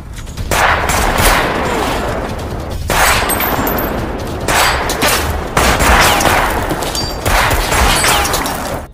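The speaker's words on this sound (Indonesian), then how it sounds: "Max dan Masaru dengan senjata rampasannya, mereka menembaki para prajurit tersebut dengan membabi buta" Gunfire in an action film scene as Max and Masaru blindly fire captured weapons at soldiers: repeated loud bursts of shots in dense volleys, with short gaps between clusters and no talking.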